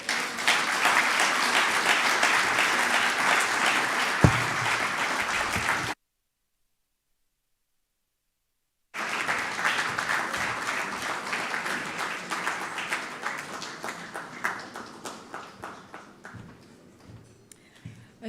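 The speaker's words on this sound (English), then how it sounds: "Another big round of applause" Audience applause at the close of a lecture in a large hall, a steady dense roar of clapping that breaks for a few seconds of silence, then resumes and gradually thins into scattered claps toward the end.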